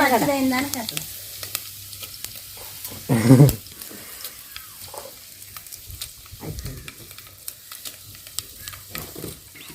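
Curry leaves, cumin and mustard seeds sizzle and crackle in hot oil in a pan for raw mango chutney, with a loud spluttering burst partway through over a steady frying hiss and occasional stirring.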